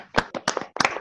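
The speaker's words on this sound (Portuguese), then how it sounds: "na sua pessoa, Lu, eu quero pedir que os meus irmãos me acompanhem numa salva de palmas pela obra de Deus" A church congregation gives a short round of applause, four quick bursts of clapping from a few pairs of hands, close and distinct.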